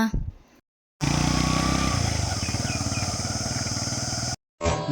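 A motorcycle engine revs up close and loud for a wheelie in a Kannada short film, a steady throbbing roar between brief silent cuts.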